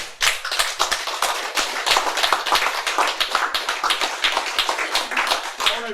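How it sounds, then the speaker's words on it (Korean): A group of people clapping their hands steadily together, a dense rhythmic burst of claps that carries on throughout, heard close and fairly loud in an indoor gathering. "박수 쳐."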